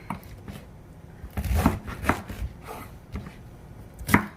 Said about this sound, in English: Alright, chop it up.